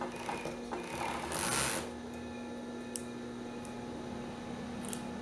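Sewing machine stitching a swimsuit seam, a steady mechanical hum running throughout with a louder burst of stitching near the middle, close and alone.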